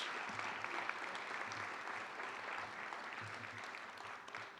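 Audience applause at a sports hall of fame induction ceremony, steady clapping from a crowd that carries on evenly throughout, fairly quiet and slightly distant, with no speech over it.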